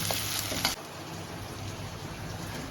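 Onions frying in a pan over a low gas flame for a chicken curry give off a steady, close sizzle, with a brief louder crackle near the start before settling into an even hiss. No one speaks.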